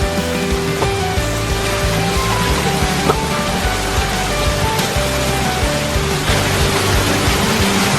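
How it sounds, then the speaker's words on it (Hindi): Steady, heavy rain pattering on surfaces, a constant dense hiss with occasional louder drops, no voices. "बारिश हो रही है"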